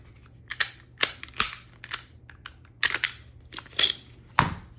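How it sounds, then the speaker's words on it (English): A Gen 5 Glock 17 pistol is taken apart by hand, giving a series of sharp metallic clicks, snaps and slides at irregular intervals, close and fairly crisp against a quiet room. "let's go ahead and take the gun down"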